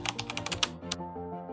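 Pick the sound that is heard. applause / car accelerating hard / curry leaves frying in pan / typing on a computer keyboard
typing on a computer keyboard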